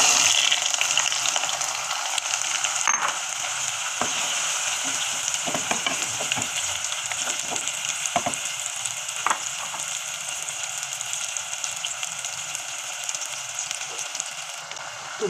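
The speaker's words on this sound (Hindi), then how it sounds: "तेल गरम हो चुका है, हम गाजरों को फ्राई करेंगे" Carrots fry in about half a cup of hot oil, a steady, loud, dense sizzle running throughout with a few sharper crackles and spatters, no voices.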